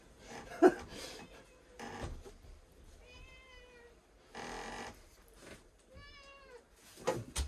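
A cat meows twice, drawn-out and close, amid soft rustling and handling noises with pauses between.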